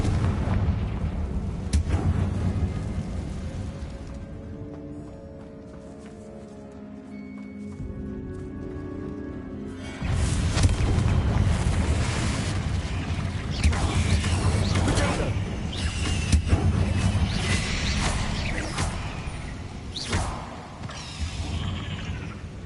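Confringo blasting spells fired during a final boss fight in Hogwarts Legacy on PS5, heard as loud, repeated booming explosions with creaking, mechanical game effects, and a brief quieter stretch in the middle.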